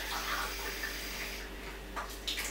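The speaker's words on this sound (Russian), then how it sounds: "Мы ставим сколько воды, сколько мы видим, что достаточно, пока вся манка не будет мокрая." Water poured into a bowl of semolina to wet it for dough in a home kitchen, a steady close trickling splash running throughout, with a brief clatter near the end.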